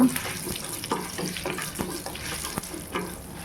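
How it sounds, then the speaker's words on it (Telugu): Urad dal fries in hot oil with mustard and cumin seeds, a steady close sizzle broken by scraping stirs about every half second. "మినపప్పు బాగా మంచి గోల్డెన్ బ్రౌన్ కలర్ వచ్చేంత వరకు ఫ్రై చేసుకోవాలి"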